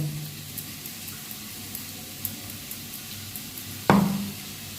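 Vegetables and chicken fry for chow mein with a low continuous sizzle, light scrapes of stirring throughout, and one sharp clang of the utensil against the pan near the end.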